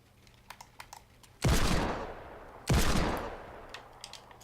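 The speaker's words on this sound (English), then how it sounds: "I was shooting to get that tree out of the way" Two loud gunshot blasts in a video game, about a second apart, each with a long decaying tail, over faint background clicks.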